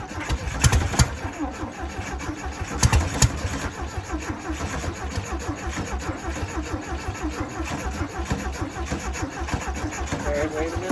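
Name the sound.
1968 VW Beetle engine starting after 35 years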